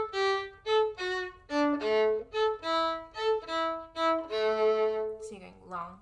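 Viola bowed in a dotted long-short rhythm, a steady run of distinct mid-register notes played close and clear, alone, ending with a brief voice at the close.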